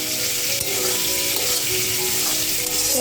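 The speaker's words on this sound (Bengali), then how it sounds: "এদিকে মাছ ভাজি কিন্তু হচ্ছে মাছের মাথা" Fish heads frying in a pan for a Bengali curry, a loud, dense, continuous sizzle and crackle heard close up without any talking.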